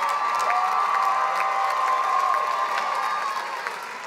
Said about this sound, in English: Let's give a round of applause to the Master of Public Policy graduates.